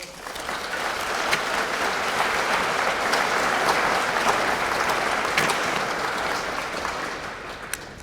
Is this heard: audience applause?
yes